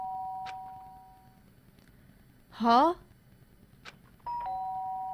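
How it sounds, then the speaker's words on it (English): Doorbell chimes in the Danganronpa video game, a sharp electronic two-tone ding-dong sounding twice with a pause between, while a voice briefly utters a short, confused sound in between. "The sharp sound of the doorbell pierced my sleepy haze and pulled me back to the real world."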